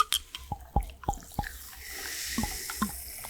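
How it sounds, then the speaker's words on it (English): A freshly poured drink bubbling up close, scattered small pops and drip-like ticks over a soft fizzing hiss, quiet and with no talk. "You hear the bubbling."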